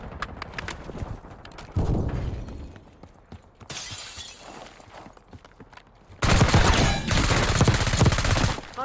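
AS VAL rifle fire in the video game Black Ops 6, with loud, rapid bursts of shots in two stretches separated by quieter game noise.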